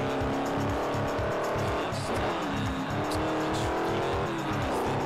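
A race car in the Forza Horizon video game drifting on gravel, with a loud, continuous engine roar, shifting revs and tyre scrub sliding through corners, close and sustained.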